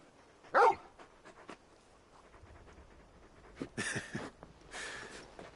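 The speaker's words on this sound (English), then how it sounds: "You're just a big puppy, aren't you? A very big puppy." A large dog in the Final Fantasy XVI video game whimpers and pants, giving a sharp yelp followed by soft breathy whines and snuffling bursts, close and otherwise quiet.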